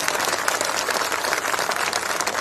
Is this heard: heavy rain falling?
no